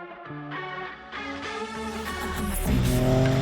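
A B6 car with a freshly refreshed rear suspension drives a course, its engine revving up through the gears with rising pitch and a brief dip at a shift, loud and close with no talk.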